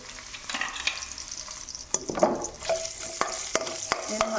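Finely chopped ginger frying in oil in a kadai, with a steady close sizzle and sharp clicks and scrapes from stirring that sound at irregular intervals.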